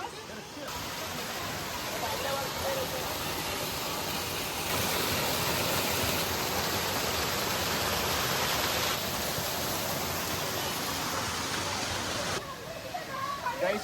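A mountain stream rushes on the Netravati forest trek, a loud, steady broadband roar of flowing water that fills the whole stretch with only small changes in level.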